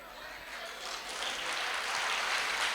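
An audience claps at a youth health and wellbeing event in a retreat centre hall, a dense, steady applause that swells slightly and holds alone without speech.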